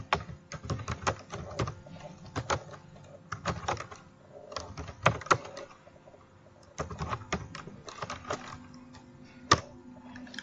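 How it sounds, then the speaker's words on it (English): Rapid clicking keystrokes on a computer keyboard come in close bursts with short pauses between, the nearby taps crisp and fairly quiet. "So let's type something that we'll use."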